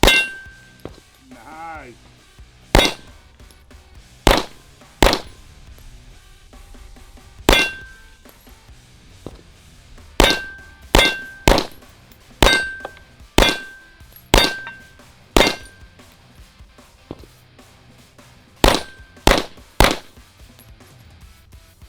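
High power rifle fired at an outdoor range, roughly a dozen sharp, loud reports spaced irregularly by a few seconds, each ringing briefly, with a short spoken remark between shots.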